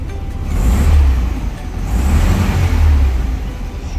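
A 1965 Volkswagen Beetle engine fires up and settles into a loud, low, throbbing idle with gentle swells in its rumble, close by and without talk.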